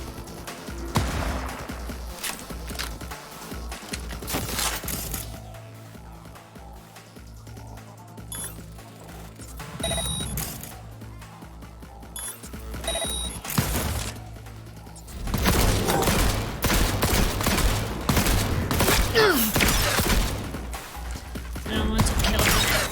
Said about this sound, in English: They're gonna fire again.